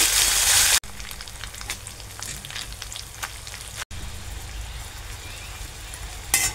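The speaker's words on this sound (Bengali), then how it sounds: "একটু কড়া করে ভেজে নিতে হবে" Small fish frying in a pan over medium heat, a loud continuous sizzle and crackle with brief stirring sounds and a couple of short breaks, heard close and alone.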